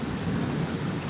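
Low, rolling thunder rumbles faintly in the distance over a soft, steady patter of slowing rain in a backyard, quiet and continuous without any talking.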